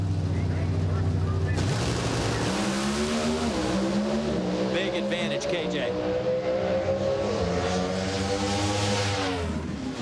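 NHRA Pro Stock drag cars launching and racing down the strip at Maple Grove, a loud sustained engine roar with shifting pitch steps as the cars accelerate away, under an excited announcer's commentary.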